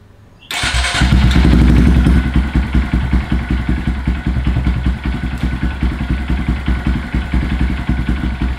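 A 2022 Honda Grom with a Yoshimura RS-9T full exhaust cranks and fires up loudly, revs briefly, then settles into a close, steady idle with a rhythmic, lumpy throb.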